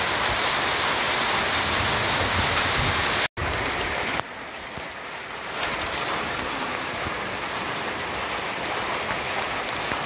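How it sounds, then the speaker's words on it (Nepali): Heavy rain pours down in Thaha-7, Agra Dadabas as a dense, constant roar of drops on surfaces, with a momentary drop-out and a slight shift in texture. "ल थामा एकदम भीषण पानी परेको छ अहिले चाहिँ।"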